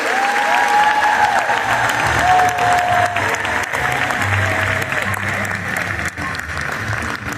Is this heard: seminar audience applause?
yes